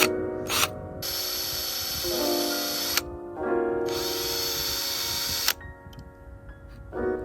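A power drill bores extra holes through Honda Civic seat rails in a repeated pattern of start-stop bursts, each a steady high whine with metallic grinding, loud and close with no talk.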